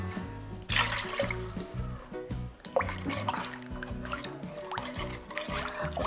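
Anchovy stock is poured into a pot of onions for spicy gochujang noodle soup. A steady, close splashing gush of liquid runs for several seconds, with trickles and drips.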